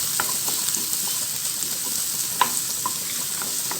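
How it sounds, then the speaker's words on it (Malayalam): Ingredients, small onions among them, fry and roast in a pan for a Malayalam Iftar thari kanji, giving a steady, even sizzle throughout, with a few soft stirring clicks and one brighter crackle near the end. "ഇതെല്ലാം ഒന്ന് വറുത്തെടുക്കാം നന്നായിട്ടിതൊന്ന് മൂപ്പിച്ചെടുക്കാം കരിഞ്ഞു പോകാൻ പാടില്ല"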